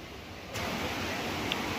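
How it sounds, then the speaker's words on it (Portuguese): Rushing water of the Roncador waterfall, a steady broadband roar that swells louder after a brief quieter moment and then holds constant, with no voices. "Não sei se vocês conseguem ouvir o barulho da água daí"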